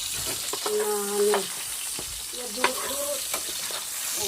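Food stir-frying in oil in a pan gives a steady sizzle, with scraping and clinking from the stirring and a brief tonal sound partway through.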